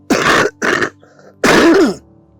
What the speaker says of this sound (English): I'm coughing now